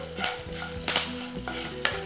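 Curry leaves crackling in hot oil for a tempering, a few sharp pops and spits over a steady sizzle with the stir of a spoon, close and moderately loud, no talk.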